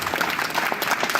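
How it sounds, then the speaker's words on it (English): Brief, dense audience applause follows a city council candidate forum in Louisiana, Missouri, a steady wash of clapping from many hands. "Let's give them a round of applause."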